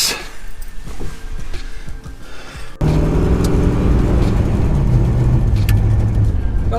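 A 1967 Dodge Charger engine hums, then abruptly swells into a loud, steady rumble as the car pulls away and keeps driving.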